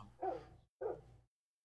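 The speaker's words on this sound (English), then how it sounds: "Oh, the dogs are barking." Dogs bark twice in quick succession, the two barks moderately loud and fairly close, with a brief gap between them and silence afterward.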